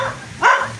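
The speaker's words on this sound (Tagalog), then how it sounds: "Daming aso mga idol." A single dog gives one short, fairly close bark on a mountain out among the forest, set against a low background hiss.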